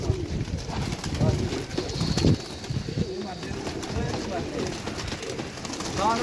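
Pigeons cooing on a rooftop, soft repeated coos mixed with rustling and a steady outdoor background, with someone talking over them throughout.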